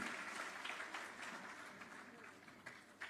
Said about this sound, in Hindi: तालियां हम जोर से बजाएंगे इनके लिए।